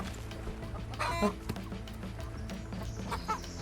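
A chicken clucks in the survival game Sunny Reef, a short burst of near clucks over steady background game music, with a few fainter clucks later.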